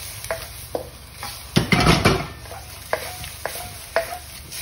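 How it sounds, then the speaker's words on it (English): Chicken pieces sizzle and fry in a pan for a British Indian restaurant-style biryani while a utensil stirs them, with a steady hiss and several sharp scraping clatters, the loudest burst near the middle, heard up close with no talking. "let that chicken cook. That's been cooking for about 30 seconds now, and so give that a bit of stir"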